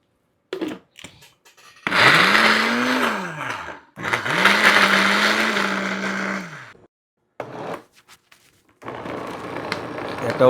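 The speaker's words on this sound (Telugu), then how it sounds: "పర్వాలే, మిక్సీలోనే కొడతా." A mixer grinder grinds chicken spice powder in two long loud bursts with a whining motor pitch that rises then falls, then shorter noisy bursts and rattles, with talk in the gaps.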